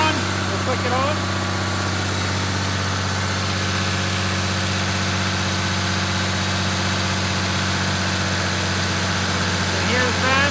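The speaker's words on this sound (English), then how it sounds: "Here's the fan coming on. It is delayed a bit. And here's the RPM picking up on the fan." A 5.9 Cummins diesel idles steadily while its electronic cooling fan switches on, a droning engine hum with a layered fan whir building underneath and someone talking over it.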